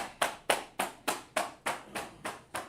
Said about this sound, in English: So clap it up for class.